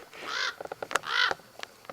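A raven near its nest gives two harsh, drawn-out croaking calls close by, with short clicks and knocks between and after them. No talking.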